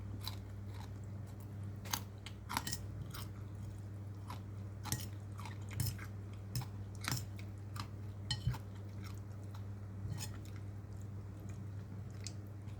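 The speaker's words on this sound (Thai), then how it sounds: "กินเข้าไปนะครับ แคบหมูกรอบ ก็ยังกรอบอยู่" Crispy pork rind being chewed up close, repeated sharp crunches in an uneven rhythm over a low steady background hum.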